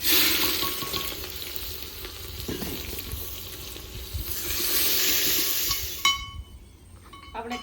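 Garlic, onion and ginger fry with cumin in a pan for Punjabi kadhi, making a loud, close, hissing sizzle that swells midway, then drops to a quieter crackle near the end, with a few faint clinks.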